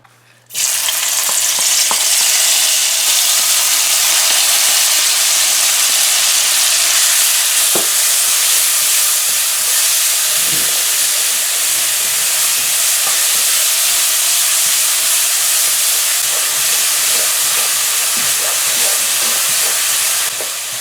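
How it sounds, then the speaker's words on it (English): Curry paste hits hot vegetable oil in a karahi and fries with a loud, steady, close-up sizzle that holds unbroken throughout, with faint occasional stirring clicks and no talk. "we have some vegetable oil which we've heated here in our Karhee. So Molly's going to add the curry paste here"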